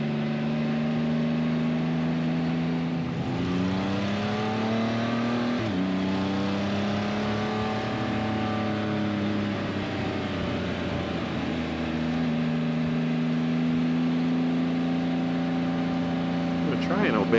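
A Can-Am Spyder RT motorcycle on its first ride after belt alignment and tension work hums close by, its engine pitch climbing and dropping through several gear shifts as it accelerates along the road.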